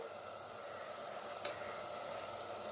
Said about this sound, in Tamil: மட்டன் சேர்த்து ஒரு ரெண்டு நிமிஷம் நல்லா வதக்கியாச்சு